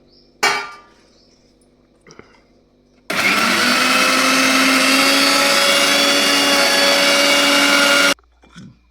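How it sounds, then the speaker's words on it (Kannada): A mixer grinder coarsely grinds pepper, cumin and tomato in one loud, steady five-second run, preceded by a sharp clank and some handling knocks. "ಮಿಕ್ಸಿಗೆ ಹಾಕೊಂಡು ದಪ್ಪ ದಪ್ಪ ರುಬ್ಕೋಬೇಕು"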